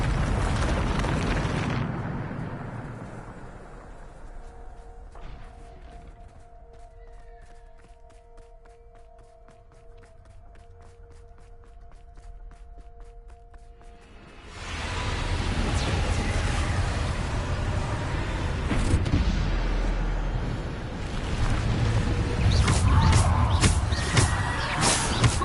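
A Bombarda spell blast in Hogwarts Legacy, a loud rumbling burst at the start and a long, heavy roar of explosions again in the second half, with quieter ambience and footsteps between.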